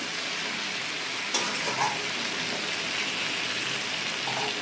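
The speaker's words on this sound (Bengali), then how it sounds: "এবার আলু পটলের সঙ্গে ঝিঙেটা একটু ভাজা ভাজা হোক" Ridge gourd, potato and pointed gourd frying in a pan, giving a steady, even sizzle throughout with a couple of faint clinks partway through.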